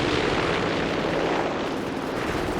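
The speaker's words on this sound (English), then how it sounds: "Another strafing run" In Company of Heroes 3, an aircraft's strafing run makes a dense, loud, continuous roar of engine noise and rapid gunfire blended into a steady rumbling wash with no pauses.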